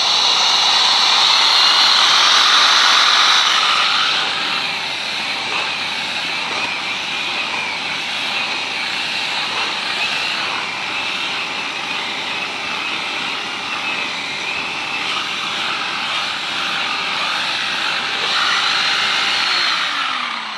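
A yellow Numatic Henry workvac fitted with a turbine brush nozzle gives off a steady high whine and airy rush, louder at the start, settling into a constant drone and swelling again near the end.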